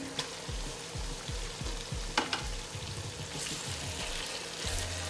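Fried potatoes go into a pan of sizzling arvi curry, giving a steady moderate sizzle with soft stirring scrapes and a few clinks throughout; no talking.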